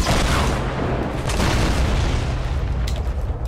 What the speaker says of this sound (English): This is my last rocket, by the way.